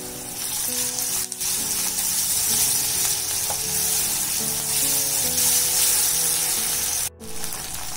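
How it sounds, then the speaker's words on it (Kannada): Chopped onion sizzles steadily in oil in a pan for vegetable kurma, a dense, continuous frying hiss with a brief dip near the end and music playing underneath. "ಒಂದು 2 ನಿಮಿಷ ಚೆನ್ನಾಗಿ ಹುರ್ಕೋಬೇಕು, ಈರುಳ್ಳಿ ಕೆಂಪಾಗೋವರೆಗೂ"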